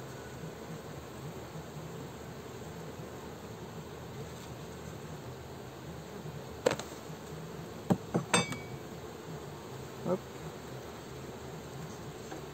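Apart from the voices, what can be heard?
honeybees buzzing around hive frame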